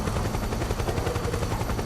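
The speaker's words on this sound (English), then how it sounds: "There's a chopper." A helicopter in the Metal Gear Solid 4 video game, a steady dense rotor roar with rapid chopping pulses, loud and continuous with no talk over it.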